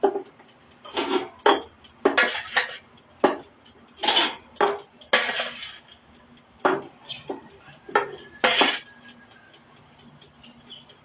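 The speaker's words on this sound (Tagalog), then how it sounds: "ilagay na natin ang ating pork sa air fryer kasi malamig na" Raw pork pieces go into an air fryer basket in a home kitchen, producing a series of sharp metallic clanks and knocks at irregular intervals, close and fairly loud, separated by quiet gaps.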